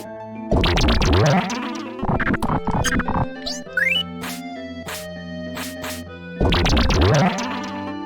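An insect buzzes in Final Fantasy VII. Loud, bright tonal buzzing comes in bursts with a short pause between them, mixed with chiming, sweeping game effects.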